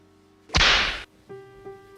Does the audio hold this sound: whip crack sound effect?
yes